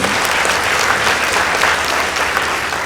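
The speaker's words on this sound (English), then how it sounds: "Let's give them a round of applause." Loud, sustained applause from a school audience at a debate contest, celebrating the winning girls' high school team; dense steady clapping throughout, no talking.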